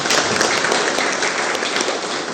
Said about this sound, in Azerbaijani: onları alqışlayın.